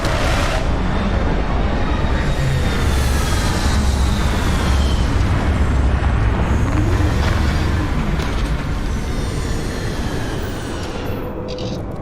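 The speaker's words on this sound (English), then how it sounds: "Retros firing." A spacecraft's retro rockets fire during a landing, making a loud, continuous, roaring rumble. The thrust holds for the whole stretch and eases off only slightly near the end, with no voices.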